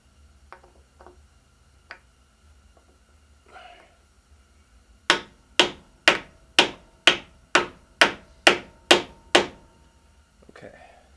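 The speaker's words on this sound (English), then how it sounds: "take your block of wood, whatever you have, and just kind of start pounding" A block of wood pounds sway bar bushings into place on a Jeep TJ during a Currie Antirock install. Ten sharp, evenly spaced thwacks follow a few quiet taps and clicks.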